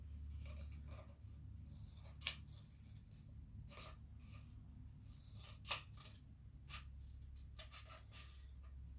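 Scissors snipping curly hair pieces along a hairline: a few faint, sharp cuts spaced a couple of seconds apart over a low steady hum, close and quiet, no talk.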